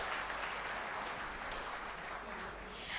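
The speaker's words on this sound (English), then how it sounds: "Can we applaud them, everyone?" Conference audience applauding speakers and panelists after a panel discussion, steady, dense clapping throughout that fills the room at moderate volume.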